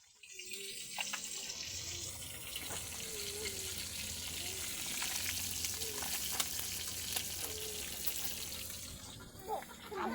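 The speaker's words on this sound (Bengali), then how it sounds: "আম্মু মাছগুলা ভাজা নিতেছে" Fish fry in a pan with a continuous, moderately loud sizzle and occasional stirring, with faint kitchen noises in the background.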